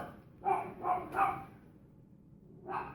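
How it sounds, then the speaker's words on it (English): A small dog barks three times in quick succession, then once more after a pause, moderately close in a quiet indoor room with no talk over it. "that's my little dog"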